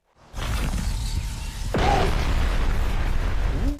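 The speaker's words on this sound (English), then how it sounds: "That explosion must have scared him." An explosion in an Omnitrix-themed video game bursts loud and close, a sudden boom with a whooshing sweep that settles into a sustained rumbling roar lasting several seconds.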